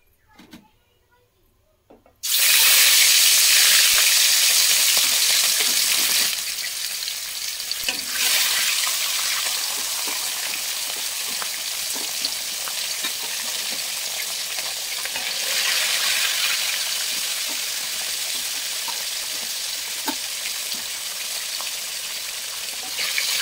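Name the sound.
small fish frying in a hot wok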